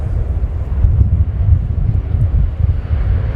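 A USAF CV-22B Osprey tiltrotor makes its final flying pass at the RIAT 2019 air show, a loud, continuous low rotor and engine rumble mixed with gusty wind buffeting the microphone.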